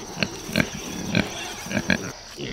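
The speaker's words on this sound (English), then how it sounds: "On to the pigs." A farm pig grunting close by in short snorty bursts, five or six spaced grunts over a low outdoor background hum, with no talking.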